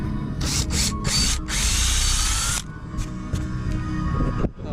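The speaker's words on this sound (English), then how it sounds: "I'll countersink holes into the plywood here" A power drill with a countersink bit whirs in several short bursts, then one longer steady run as the bit bores into plywood, close by, followed by quieter handling sounds.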